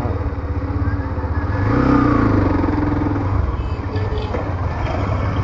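Motorcycle engine running steadily on a ride toward Loop Bridge near Siliguri, North Bengal, a continuous close rumble that swells briefly mid-way, with traffic noise and no talk.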